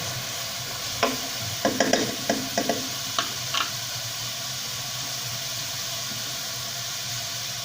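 Onion cooking in a pan for stuffed peppers, a steady soft sizzle carrying a short cluster of scraping stir strokes in the first few seconds, then settling back to an even, uninterrupted sizzle without talk.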